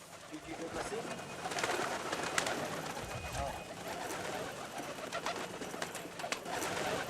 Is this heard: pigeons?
yes